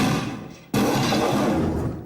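A layered film sound effect for King Kong throwing something that slides past: a sustained broad rumbling roar that breaks into a sudden heavy impact, then a long grinding slide that slowly fades.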